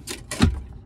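Storage safe compartment in a 2023 Toyota Tacoma Limited V6 Double Cab being opened, a couple of quick clicks followed by a short thunk of the latch and lid, close and brief.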